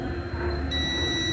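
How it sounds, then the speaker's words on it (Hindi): Continuity buzzer of a multimeter beeping on a good scooter fuse, a steady high electronic tone starting partway through and holding to the end, close and clear with no talk over it. "इसमें भी आवाज आ रही, मतलब फ्यूज अच्छा है।"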